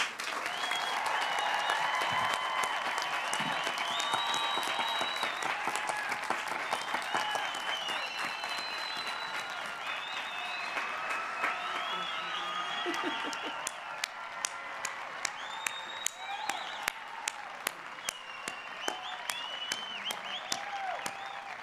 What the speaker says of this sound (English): Please join me in a round of applause for all of these new graduates.